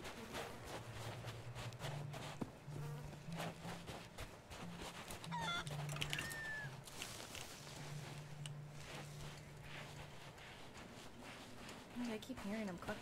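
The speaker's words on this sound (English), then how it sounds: "I keep hearing him clucking." Chicken clucking in a multiplayer video game, small intermittent clucks and bird calls sitting under near-constant player chatter over a low hum.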